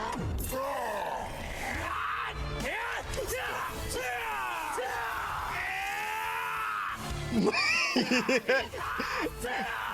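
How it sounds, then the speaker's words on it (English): A character screams repeatedly in the Unleash the Avatar game trailer, long strained yells and groaning bellows rising and falling, growing louder and more ragged toward the end. "Why my boy screaming so much though?"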